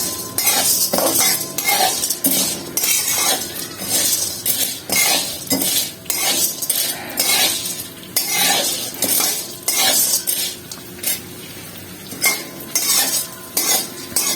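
Edible gum being roasted in ghee in a pan for gund pak: a metal spoon scrapes and clinks against the pan in a steady stirring rhythm over a continuous soft sizzle of frying, close and loud.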